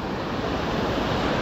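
A river rushes far below a swaying bridge at Devprayag in winter, a steady broadband roar of water that holds even and continuous throughout.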